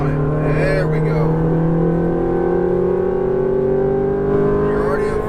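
A Ferrari F430 engine accelerates on a race track, a loud, close, sustained tone climbing steadily in pitch, with a voice talking over it.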